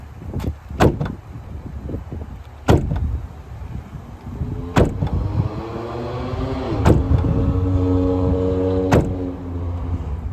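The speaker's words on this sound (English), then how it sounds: "You roll down one window and you open and close the opposite door rapidly about 5 times." A car door is slammed open and shut several times in quick succession while one window is rolled down, giving sharp repeated thuds at intervals over a steady whirring motor tone.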